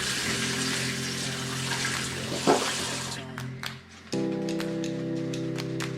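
A makeup brush is rinsed under a running tap, a steady broadband rush of water that briefly drops and shifts, then resumes with a low hum from the plumbing. There is no talk.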